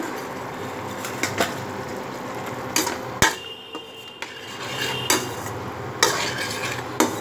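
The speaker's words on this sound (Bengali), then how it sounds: "আলুটাও দিয়ে দিচ্ছি আবার একটু কষিয়ে নেব" Potatoes are stirred and sautéed in a pan while a spatula clatters against the metal. A soft sizzle sits underneath, broken by several sharp knocks and scrapes spread through the clip, and no one speaks.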